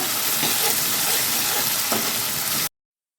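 Chopped tomatoes with a little rock salt sizzling steadily while being sautéed in a pan for Kumbakonam kadappa, a loud continuous frying hiss that cuts off abruptly near the end.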